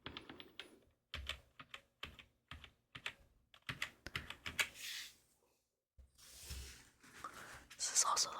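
Typing on a Roccat Vulcan 121 keyboard with linear switches, close and quiet: bursts of soft, rapid key clicks with pauses between, sometimes under faint whispered speech.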